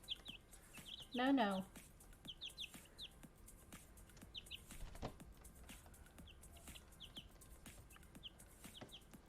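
Backyard chickens cluck and chirp faintly, with soft calls scattered through a quiet setting and a voice speaking briefly near the start.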